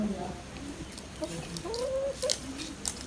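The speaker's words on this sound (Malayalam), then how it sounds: "കോഴി ഞാൻ തീറ്റ കൊടുക്കണ്ടോ ചോദിച്ചിട്ടാണ് കോഴി വന്നത് കേട്ടോ" A chicken clucks close by with a few soft, irregular clucks over a low outdoor background hum.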